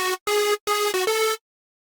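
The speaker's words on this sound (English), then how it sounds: "Has a square wave going on here, so it gives it more of a unique sound compared to the other two." Square-wave synth lead from a Code Black sound bank in FL Studio, playing a short hardstyle melody of four bright, buzzy sustained notes with brief gaps and a small pitch step near the end.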